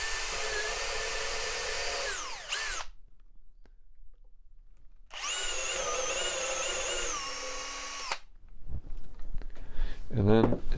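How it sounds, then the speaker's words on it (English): A power drill whines up and winds down twice as it bores holes into a wooden Ikea-style drawer, loud and close, with a short burst of noisy rattling afterward. "now what I need to do is drill holes through here"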